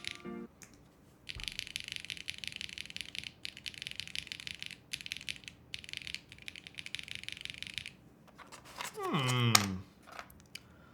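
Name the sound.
typing on a custom-built Parallel Snake mechanical keyboard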